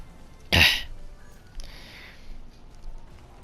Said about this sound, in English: I hate the lingering cough that you can get from respiratory illnesses.